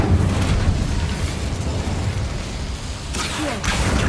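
A deep, rumbling blast of the Incendio fire spell in Hogwarts Legacy, loud and sustained with a roaring tail and a brief crackling flare near the end.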